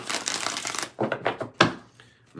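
Tarot cards are shuffled by hand in a few separate bursts, a long riffling rush followed by shorter quick shuffles and a sharp snap, close and clear with no talking.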